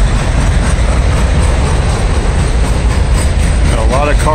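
A long freight train of autorack and intermodal cars rolls steadily past close by, a loud continuous rumble with rattling wheels and a brief squeal near the end.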